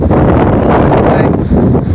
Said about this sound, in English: That wind picked up.